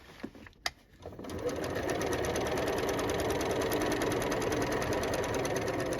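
A sewing machine stitches around a pocket on an upcycled denim jacket, starting after a few clicks and then running in a steady, continuous close-up whir until the end.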